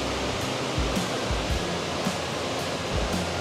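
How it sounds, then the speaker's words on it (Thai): The waterfall at Dai Chong Thong in Sangkhla Buri gives a steady, broadband roar of rushing water, even and unbroken throughout. "เรียกว่าเดินชมอุทยานน้ำตกกันเลยทีเดียวท่านผู้ชมสวยงามมากครับ"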